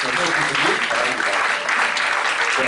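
Steady applause from a church youth-group congregation, dense and continuous for the whole stretch, with background music playing underneath.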